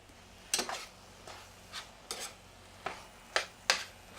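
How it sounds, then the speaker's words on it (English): Browning turkey being stirred in a pan, about seven sharp scrapes and clacks of a utensil against the pan at uneven intervals over a faint, steady sizzle, close and fairly quiet. "So my turkey looks like it's doing well over here. I'm going to stir that up for a minute."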